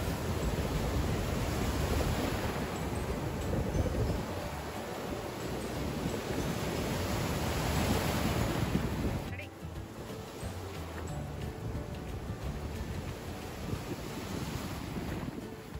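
Ocean surf rolls onto Koduru beach near Nellore, a loud broad wash mixed with wind rumble on the microphone that drops noticeably softer partway through and continues as a quieter steady roar.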